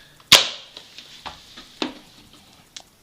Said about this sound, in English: You push the slide back and you're primed and ready to shoot.